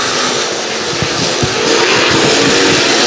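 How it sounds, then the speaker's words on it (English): Super late model race cars racing in a heat on a dirt track, a loud continuous roar of engines from several cars blending together close by. "This is heat race number 3 with Derek Groomer up in front."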